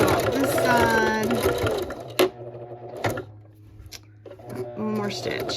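Sewing machine stitching a T-shirt baby quilt: a steady mechanical hum with rapid needle clatter running near, then stopping and restarting in short bursts, with someone talking over it.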